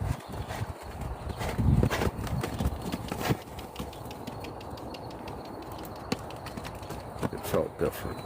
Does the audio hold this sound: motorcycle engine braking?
no